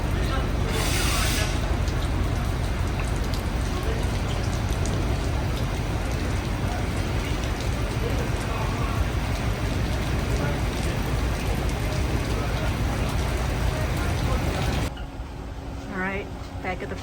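Steady heavy rain pours down at the Gatun Locks of the Panama Canal aboard a ship, a dense continuous hiss. It drops away sharply near the end.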